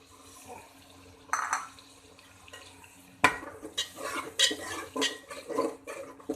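Chicken biryani mixture with tamarind and yogurt stirred in a pot, wet squelching scrapes and clinks of a spoon against metal in repeated strokes, close and moderately quiet, with no talking.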